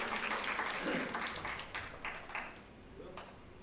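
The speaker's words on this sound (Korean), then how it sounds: "일동 차렷 경례 박수 부탁드리겠습니다" An audience at a mock parliament contest applauds in a dense burst of clapping that gradually thins and fades over a few seconds.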